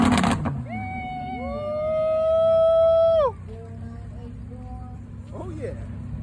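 A McLaren sports car at a 2023 car meet in Germantown, Maryland revs up with a climbing, droning engine tone that holds, then cuts off sharply, leaving a quieter steady tone and background crowd noise.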